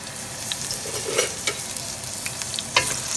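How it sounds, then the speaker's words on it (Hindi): A medium onion fries in a cup of hot oil in a kadhai, giving a loud, continuous close sizzle with brief scraping stirs and small clinks on top. "ऑयल गरम हो जाए तो इसमें हम एक मीडियम साइज़ की प्याज डालेंगे"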